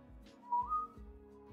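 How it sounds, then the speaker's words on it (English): A person whistles a short tune, a few clear rising notes standing out over a low background bed. "he lets out a whistle"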